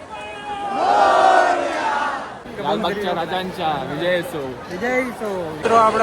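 Crowd of devotees at the Lalbaugcha Raja Ganesh festival in Mumbai, a loud chanting roar of many voices in rising and falling waves, close and continuous.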